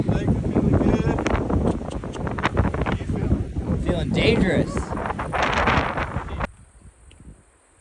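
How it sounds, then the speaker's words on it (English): Strong gusts roar across a mountain peak on a long-distance hiking trail, blasting the microphone with a loud, close, ragged rush for about six seconds before dropping abruptly to a faint breeze. "Here comes Rambo and Noah, reaching the peak, super windy"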